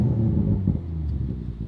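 Toyota Supra Mk5 engine revving in neutral, a deep steady rumble with a slight swell near the start, heard close from inside the car with no talking.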